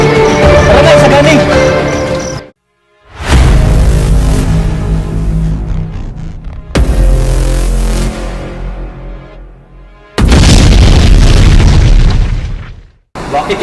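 A lamp explodes in a dramatic film scene, producing several loud booming bursts separated by brief silences, each followed by a long rumbling decay, with speech and music around them.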